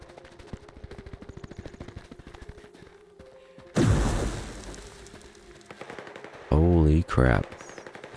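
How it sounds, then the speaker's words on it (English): In the S.T.A.L.K.E.R. 2 video game, quiet crackling gives way to a loud burst of automatic gunfire echoing inside a small facility, then two more sharp, heavy bursts near the end. "There's gunshots going on inside this little facility here."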